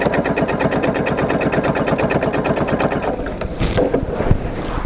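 A sewing machine stitches down the binding on a quilt, running in a fast, steady, close rattle of regular needle strokes before slowing and stopping with a few lighter clicks near the end.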